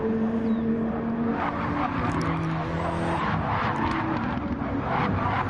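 A race car drifts around corners in a PS4 racing video game, its loud, continuous engine roar blending with tire squeal and skidding throughout.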